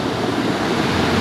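Large ocean waves break and roll onto a remote beach at General Nakar, Quezon, a loud, continuous wash of surf with wind noise, no voices.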